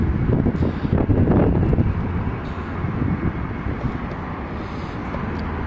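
Strong wind blows on a cold railway overpass, a loud, steady roar of gusts buffeting the microphone. A low rumble sits beneath it throughout.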